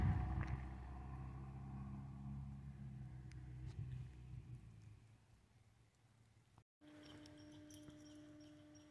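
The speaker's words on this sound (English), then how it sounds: "Garbage truck is here." A garbage truck arriving at a foggy mountain campground, with a low engine rumble that fades over several seconds, a brief dropout, then a steadier idling drone.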